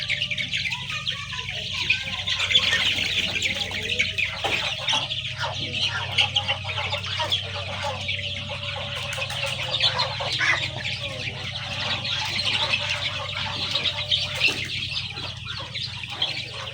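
A crowd of Sonali and Fayoumi chickens on a poultry farm clucks and squawks continuously, with occasional wing flaps, dense and close throughout.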